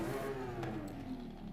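A car with a sport exhaust revs in Forza Horizon 5, a steady droning engine tone that climbs slightly in pitch, loud and continuous with no talking.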